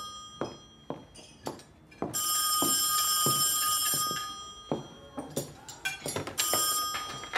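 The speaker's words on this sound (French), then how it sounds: "Alice, tu décroches?" A telephone bell rings loudly indoors in two long trilling bursts, separated by a pause filled with a few clinks and faint movement.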